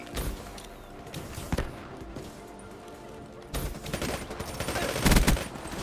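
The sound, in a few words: PPSh gunfire in Black Ops 3 video game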